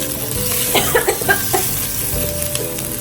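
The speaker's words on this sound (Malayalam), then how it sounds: "കുറച്ചും കൂടി വെളിച്ചെണ്ണ ഒഴിച്ചു" Coconut oil hits a hot pan while chicken curry is being cooked, giving a crackling sizzle with several quick spattering pops over a steady hiss.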